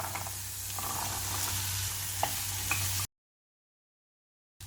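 Boiled chickpeas stirred into a pan of masala, a steady soft sizzle with faint scraping for about three seconds, then sudden silence before a brief return at the end.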